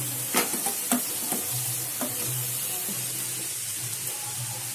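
Pre-fried chicken lollipops dropped into hot oil in a pan and tossed, giving a sizzling hiss broken by several sharp clatters and scrapes early on, then settling into a steady fry.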